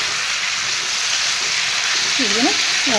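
Fish and cauliflower fry in a pan with a steady, bright sizzle and hiss. A voice speaks briefly near the end.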